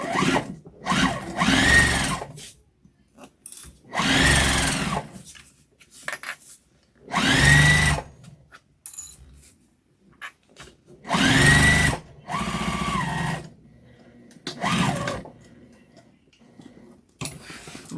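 Close by, a sewing machine stitches a vinyl and cotton tote bag in short bursts with brief pauses between them, including quick back stitches.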